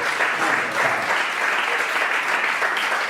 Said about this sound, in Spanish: ¿Cuántos pueden dar un aplauso a Jesucristo?